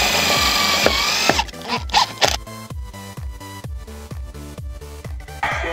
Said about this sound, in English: now we're gonna drill it on.